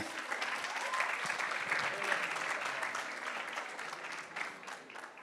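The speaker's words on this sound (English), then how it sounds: "Could we give a round of applause for our team for all these events?" A crowd applauds steadily, a dense wash of clapping that holds at an even level throughout.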